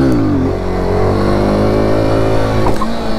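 A motorcycle engine revs loud and close during a wheelie in a stunt lot. Its pitch climbs steadily, then drops sharply near the end as the throttle comes off.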